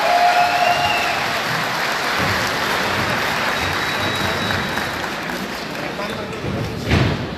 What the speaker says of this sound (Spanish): a quien queremos agradecerle este importante discurso, este importante mensaje, con este fuerte aplauso, por favor.